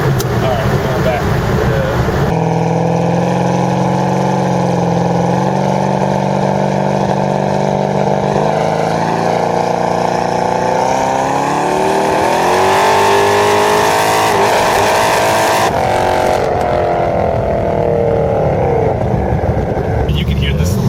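A 1500 HP Camaro with a Nelson Racing Engines build revs loudly on the street, a harsh, continuous engine roar that rises and falls over about twenty seconds, close to the microphone, with people talking over it.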